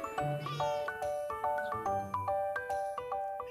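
Cats at a Korean melon farm meow in a series of short, bright, evenly spaced calls, close and fairly loud, with no talking over them.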